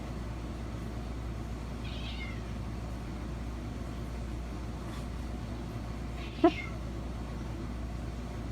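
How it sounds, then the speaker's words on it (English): Cats meow at a back door at night, two faint distant meows several seconds apart over a steady low hum of background noise. "the cats are at the back door"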